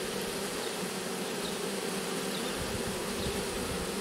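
A honeybee swarm with an old black queen, gathered on the ground, fans at the hive entrance and streams inside, giving a dense, steady close-up buzz with no talk.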